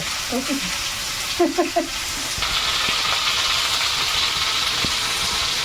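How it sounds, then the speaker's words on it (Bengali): Potatoes hit hot oil in a karahi: a close, steady broadband sizzle swells up and then holds, after a few moments of voices talking. "কড়াইতে আবারও তেল দিয়েছি হ্যাঁ আর আলুটা ভেজে"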